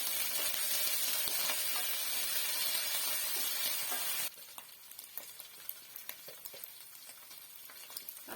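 Ginger, garlic and cumin paste fries in oil for hilsa khichuri, first with a loud dense sizzle, then a quieter crackle with spatula stirring after the first half, close, with no talking.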